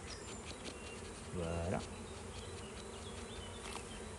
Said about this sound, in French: Elle indique aux abeilles où est-ce qu'il faut aller parce qu'elle sait que la reine est à l'intérieur